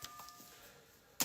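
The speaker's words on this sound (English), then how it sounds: "You take it, I'll ring the bell." A bell rung during an Instagram live comic-book sale gives a single faint, steady ringing tone across most of the moment, closed by a sharper knock or clack at the end, with no speech.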